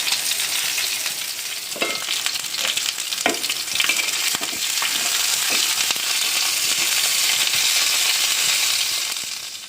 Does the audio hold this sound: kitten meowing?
no